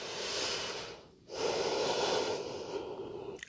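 Heavy breathing during a regeneration workout, two long, loud, close breaths with a brief pause between them and a faint snort-like edge.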